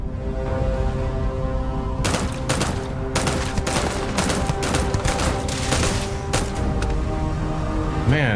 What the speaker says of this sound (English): that weapon you have is impressive. Just that giant spread of lasers